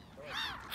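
A single faint caw from a crow among trees near a sanatorium by the water in Belarus, brief and distant, with a harsh rising-falling tone.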